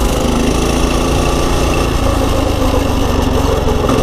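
A pit bike's small single-cylinder engine runs steadily at low RPM, a loud, close, continuous throbbing drone with no voices over it.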